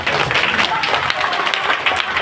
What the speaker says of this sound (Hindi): अब आप ताली बजा दिए